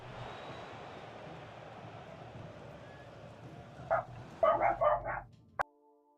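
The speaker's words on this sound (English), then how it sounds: "Apologies, my dog started barking" A dog barks several times in a quick cluster, a few sharp nearby woofs over a low steady background hum, then stops abruptly.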